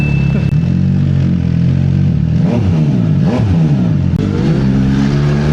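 An MV Agusta Turismo Veloce R motorcycle exhaust revs loudly and up close, the engine note rising and falling in continuous throttle blips with no one talking.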